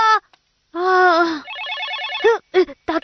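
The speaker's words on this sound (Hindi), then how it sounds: "ताकेमी का फोन होगा।" A telephone rings in a Hindi-dubbed animated cartoon episode, a warbling electronic ring with a rapid trill, framed by short bursts of speech before and after.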